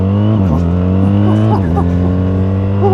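BMW R 1300 RS motorcycle engine pulling hard at full throttle, a loud steady drone with pitch dips at gear changes and rising again, close up under wind noise, with a rider talking over it.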